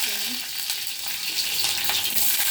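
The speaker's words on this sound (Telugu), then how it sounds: "ఇప్పుడు ఆయిల్ కాలింది. ఒక హాఫ్ స్పూన్ జీలకర్ర, హాఫ్ స్పూన్ ఆవాలు వేస్తున్నాను." Cumin and mustard seeds hit hot oil with a close, bright sizzle and crackle that holds steady for a couple of seconds, with light popping and no talk.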